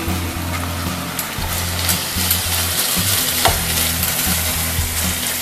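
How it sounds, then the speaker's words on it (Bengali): Marinated mutton frying with fried onions in a pan for Hyderabadi dhaba-style mutton masala, with a loud, close, steady sizzle, scraping stir strokes and a low hum underneath. "খুব ভালোভাবে মাটনটা আমি কষিয়ে নেব"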